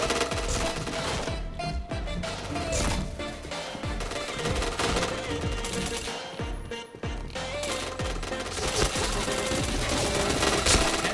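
Rapid gunfire in the shooter game Point Blank, dense overlapping bursts of shots and automatic fire running continuously over game background noise, loud and close.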